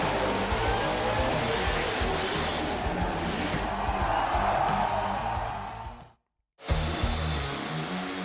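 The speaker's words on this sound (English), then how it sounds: "it featured this huge skid from Matt Purnell in Blackout." A car does a burnout at the 2016 Summernats Burnout Masters, Round 1 Burnout King in Western Australia: a loud, sustained engine roar with screeching tyres, crowd noise beneath, and a brief cut to near silence before the roar resumes.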